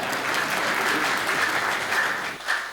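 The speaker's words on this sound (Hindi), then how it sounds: "तालियां बजा दीजिए।" Sustained applause from a crowd after a comic song performance, steady and dense clapping throughout with a slight swell near the end.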